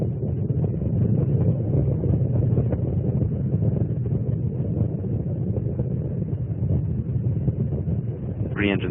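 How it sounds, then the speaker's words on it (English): Space Shuttle Endeavour's three main engines roar at full throttle during launch, a continuous, heavy, low rumble with wind-like buffeting that holds steady and loud throughout, with no one talking. "3 engines on Endeavour now back at full throttle."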